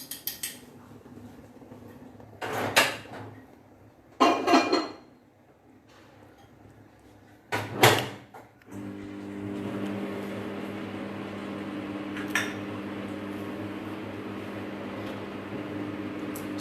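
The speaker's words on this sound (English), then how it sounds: "I'm going to put it back in the microwave for again 30 seconds." Kitchen microwave oven: a few clinks and clacks of the door being handled and shut, then the steady hum of the oven running, with a soft click partway through.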